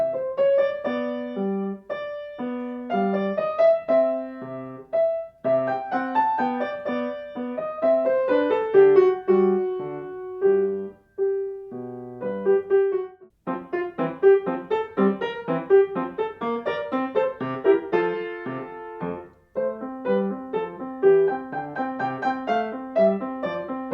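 Mozart's Minuets I and II, K.6, played on a piano in a home studio, a clear, steady solo performance of light, evenly phrased melody over simple bass notes, moderately loud with no voices.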